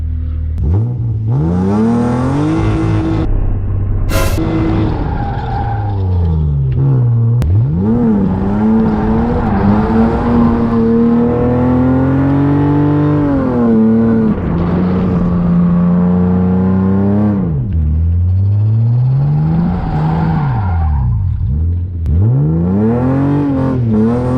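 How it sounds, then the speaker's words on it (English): BMW E36 drifting, its engine revving hard in repeated rising and falling sweeps, loud and close for about 24 seconds with no talk over it. "I'm drifting."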